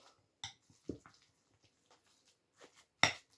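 A spoon mixes cottage cheese, egg, salt and garlic in a bowl as filling for stuffed zucchini, giving a few quiet, scattered clinks and soft squishy scrapes with long pauses.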